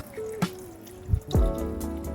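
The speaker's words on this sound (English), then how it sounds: "Now let's add the water." Water is poured into a ginger and cinnamon mixture, giving a short splashing trickle that swells briefly after a few faint drips. It is heard alone, with a quiet tone humming in the background.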